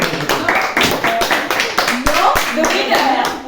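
Friends clap loudly and close by in a home setting, with sharp, uneven slaps mixed with chatter and laughter from children.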